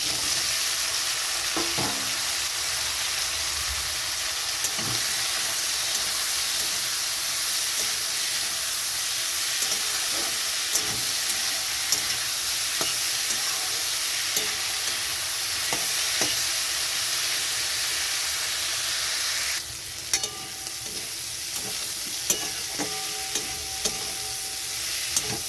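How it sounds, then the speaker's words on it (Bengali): Bitter gourd and prawns fry in a pan with dried and green chillies, a steady close sizzle running throughout with occasional stirring clatters and a brighter burst of hissing near the end. "এখানে আমি দিয়ে দিচ্ছি উচ্ছে"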